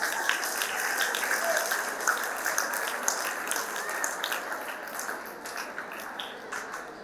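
A college event audience claps at length, a dense, steady patter of many hands that holds at an even level throughout, with no voices above it.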